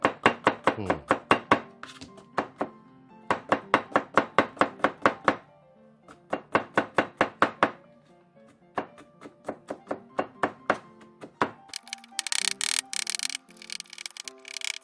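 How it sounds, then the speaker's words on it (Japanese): Garlic is chopped with a knife on a board in quick, close bursts of rhythmic thunking strokes separated by short pauses, ending with a brief busier clatter and no talking. "ニンニクを今100g ほど刻みました。"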